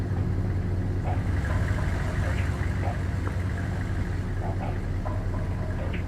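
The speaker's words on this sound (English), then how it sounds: "This vehicle is ready. Engine is running, sir." A vehicle engine idles steadily in the strategy game World in Conflict, a constant low rumbling hum with soldiers' voices talking over it.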